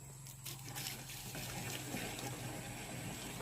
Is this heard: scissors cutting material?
no